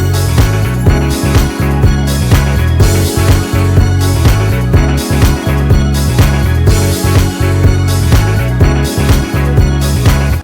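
Programmed drum loop opening with a crash cymbal hit, then an open hi-hat before the claps or snares over kick and bass; loud, repeating rhythm lasting several bars, no one talking.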